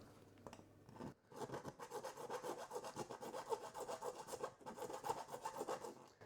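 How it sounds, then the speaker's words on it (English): A round file rasps back and forth through a hole in an aluminium pet door flap frame set in a window frame, a steady run of close, rhythmic scraping strokes after a brief pause. "Just get a round file"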